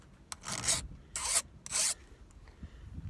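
Hand file scraping a burr off a chainsaw chain, three to four short rasping strokes in quick succession, close and fairly quiet, with small knocks between them.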